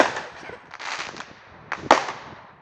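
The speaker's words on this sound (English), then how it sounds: "today we'll be looking at the fireworks" Fireworks crackle and pop outdoors in a few sharp bursts, the loudest bang near the end, with fizzing crackle between them at moderate distance and no talking.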